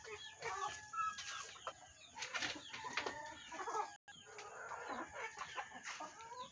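Backyard chickens clucking and calling in irregular bursts, with a rooster crowing among them, fairly faint and distant with outdoor ambience and no talk.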